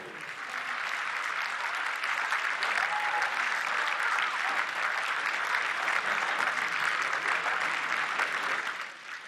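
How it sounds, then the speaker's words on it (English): Rousing applause fills the House chamber as Speaker Mike Johnson is reelected for the 119th Congress, a dense, steady roar of many hands clapping that holds loud for the full stretch before easing at the very end. "he is receiving a rousing applause after securing the gavel for the 119th Congress"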